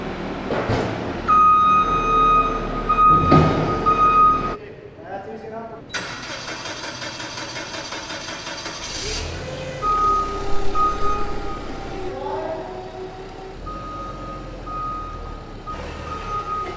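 A forklift unloading farm feed starts up and idles with repeated high reversing beeps over its rumbling engine, heard at close range alongside voices talking.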